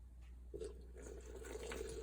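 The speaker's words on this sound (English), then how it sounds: "I'm just mixing in a little bit of hot water with cold water" Tap water runs steadily into a container while hot and cold are mixed for sourdough bread dough, a soft, faint splashing stream heard alone.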